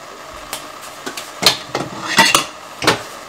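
A lid goes onto a cooking pot of rasmalai on the stove with several clattering metal clinks and knocks, a sharp clank near the middle and a couple more after, close and fairly loud.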